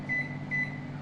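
A microwave oven running on convection mode at 160 while baking a homemade cake, giving a steady low hum with a faint fan whir and a thin high whine that rises twice.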